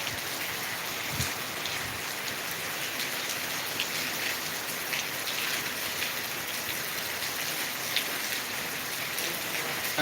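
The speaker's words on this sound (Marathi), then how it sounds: "रात्रभर पाऊस चालू आहे धार असा पाऊस आहे" Heavy overnight downpour in Latur, dense steady rain drumming on surfaces close by, continuous and loud with no break.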